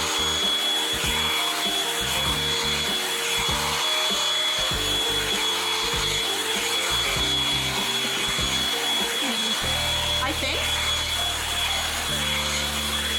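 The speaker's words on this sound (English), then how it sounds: "I'm gonna go in with my Revlon blow dryer" A Revlon hair dryer running steadily, a loud continuous airy whir with slight shifts in tone as it moves, no talking.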